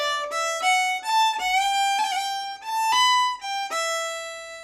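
An Irish fiddle plays the first section of a tune alone, a lively run of bowed notes with bright harmonics, some sliding ornaments and steady rhythm, heard close and clear.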